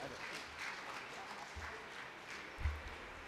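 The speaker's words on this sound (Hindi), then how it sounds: "एक बार जब बढ़िया सी तालियां बजाइए" Audience applause at a Hindi poetry gathering celebrating a birthday, a faint, distant patter of clapping with a few low thumps near the microphone.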